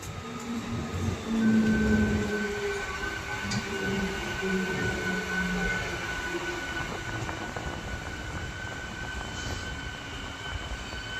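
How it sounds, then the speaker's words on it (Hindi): A crowded Delhi–Aligarh passenger train runs past on the adjacent track, a steady rolling rumble of wheels and carriages with faint metallic whines, continuous and fairly close throughout. "तो यहाँ भाई दिल्ली अलीगढ़ पैसेंजर ट्रेन से क्रॉसिंग हो रही है और काफ़ी भरी हुई है"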